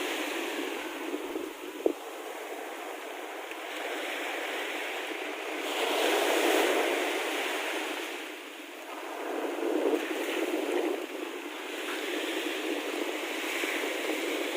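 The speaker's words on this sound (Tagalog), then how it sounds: "Malakas ang alon." Strong waves surge at Dolomite Beach after Typhoon Kiko, a broad roaring wash that swells and recedes in slow pulses under buffeting wind, with one sharp knock early on.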